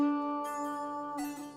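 Slide guitar strings left ringing without damping behind the slide, a sustained tone that swells and then shifts as the slide moves near the end, fairly quiet and alone.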